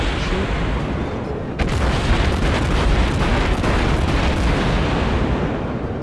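Dense, continuous naval artillery fire from battleship guns in World of Warships, loud booms and blasts overlapping in a steady barrage for the whole stretch.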